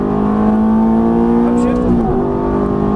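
Ferrari F430 engine revving hard on a track, a loud, sustained whine climbing steadily before a sharp pitch drop at an upshift, then pulling again, with a voice talking over it.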